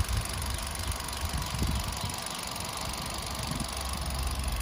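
A 2018 Kia Morning's small engine idling under the open hood, a low steady hum with a faint irregular rumble, heard close and alone.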